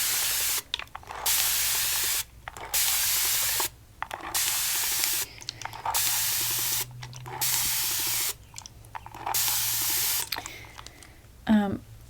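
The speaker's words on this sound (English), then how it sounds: "Then just a good old spray down." A spray bottle mists water onto wet, conditioned hair during a Southern hairdressing shampoo class. About six close, loud bursts of spray hiss arrive in a steady rhythm, each lasting roughly a second, with short quiet gaps between them.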